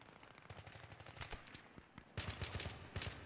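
Bursts of hip-fired automatic gunshots from Battlefield 3, rapid volleys with a brief pause and then a louder, closer stretch of sustained fire, with no talking.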